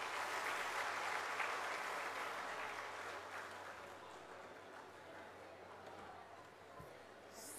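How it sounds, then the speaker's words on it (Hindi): Audience applause at an Adivasi gathering in Uttar Pradesh, welcoming the next speaker in a hall; steady, moderately distant clapping that slowly thins out, with crowd chatter mixed in. "उनका स्वागत भी जोरदार तालियों से किया जाए।"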